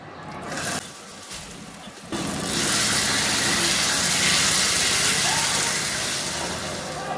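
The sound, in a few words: frying ground bean mash (shim bhorta) in pan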